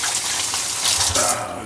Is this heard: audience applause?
no